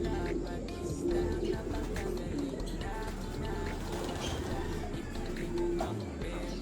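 Pigeons cooing softly in low repeated calls among faint background murmur and outdoor noise, with people talking quietly nearby.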